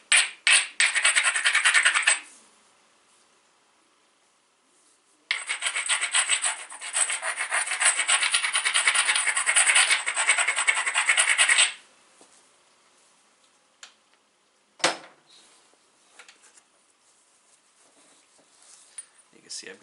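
A flint piece scraped along its edge with a knapping tool, giving two long bursts of harsh, gritty rubbing close by, separated by a pause, followed by a few quiet taps and scrapes.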